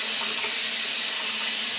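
Medium-hot tap water pours steadily over a juicer plunger being rinsed in a sink, a close, loud, continuous rushing splash with no talking.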